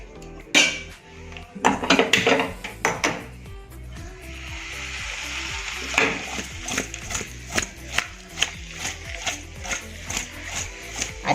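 A spoon scrapes and taps against a pan as a soji poha mixture is stirred over a gas flame, with uneven knocks and a soft sizzle building beneath them.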